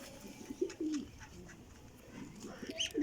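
Rampuri pigeons coo softly in a loft, with a few low, murmuring calls scattered over a few seconds against quiet background noise.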